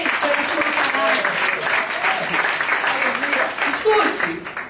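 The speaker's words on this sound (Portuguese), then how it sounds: "Dê um aplauso ao Senhor" Worshippers at a church service applaud, sustained, dense clapping heard close and steady, with voices and shouts mixed into the sound throughout.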